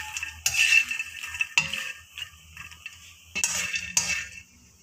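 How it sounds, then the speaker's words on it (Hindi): Makhana (fox nuts) dry-roasting in a pan are stirred in bursts, with light clinks, rattles and scrapes of the spoon against the metal, separated by quiet pauses, and no voices. "इनको आपने हिलाते जाना है ताकि ये अच्छे से जो है फ्राई हो जाए"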